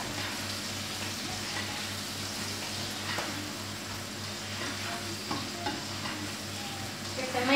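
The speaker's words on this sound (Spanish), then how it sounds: "Que se mezcle todo bien el orégano con la sangrecita." A spoon stirs blood and oregano in a hot pan, a continuous sizzle and frying hiss under scraping strokes, close and steady with no talking.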